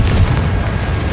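A single Confringo spell explosion from Hogwarts Legacy, the video game, lands as a brief, heavy, loud boom with a deep rumbling body.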